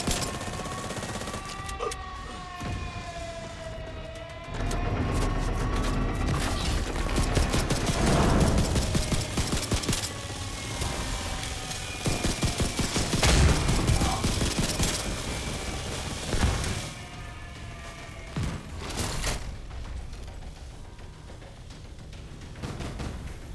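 Sustained bursts of automatic gunfire in The Division 2 rattle through a long firefight, with sharp shots and booms mixed with mechanical whines and clatter, loud and near.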